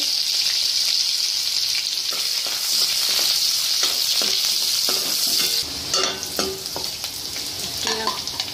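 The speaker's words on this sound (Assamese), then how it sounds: "অলপ তেল লৈ ল'ব। জিৰা দিব।" Cumin seeds fry in a little hot oil in a pan, a steady close sizzle with occasional stirring scrapes and clinks.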